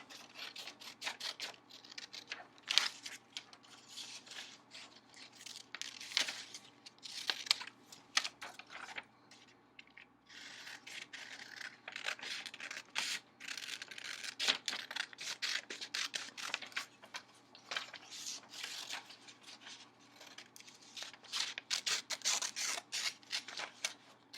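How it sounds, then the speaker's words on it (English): Crisp snipping and rustling of scissors cutting through colored paper, with repeated short cuts in an uneven rhythm, close and fairly quiet, no talking. "And then I'm just going to cut it out with my scissors."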